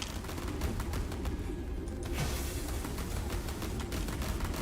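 Spaceships trade fire and explode in the space strategy game Sins of a Solar Empire 2, a dense continuous barrage of rapid gunfire-like bursts and blasts, steady and fairly loud throughout with no speech.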